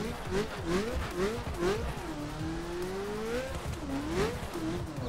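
Ferrari F40 engine in the racing game The Crew Wild Run revs and shifts repeatedly, pitch rising and falling through the gears, loud and close, with tire squeal at moments and no talk.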